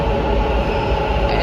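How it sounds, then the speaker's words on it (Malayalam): A metro train pulling into a station, heard as a steady loud rumbling roar of rolling wheels and motors, close by, with no talk. "എൻ്റെ ട്രെയിൻ വരുന്നുണ്ട് എനിക്ക് പോകാൻ."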